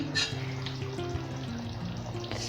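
Butter frying in a hot pan of pav bhaji gives a soft, steady sizzle with faint crackles, heard up close with no talking.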